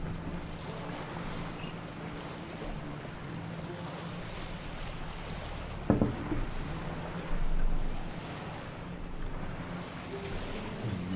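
A sailing boat moving across open sea in The Witcher 3, with steady wind, waves and water washing against the hull. A brief splash lands near the middle, and a swell of water follows.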